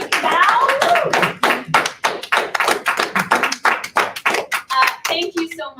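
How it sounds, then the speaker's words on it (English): Audience applause for readers at a dramatic reading event, close and loud with distinct individual claps in a rhythmic, choppy pattern, a few voices mixing in near the start and end. "A round of applause for our readers today."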